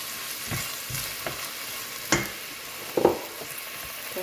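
Onions fry in a pan for Algerian berkoukes, a constant low sizzle with occasional stirring scrapes and clinks of a utensil against the pan, close up and with no talking.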